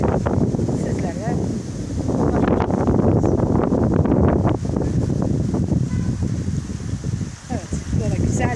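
Wind gusts across an outdoor picnic spot near flowing water, buffeting the microphone in a continuous rough rush with a brief lull.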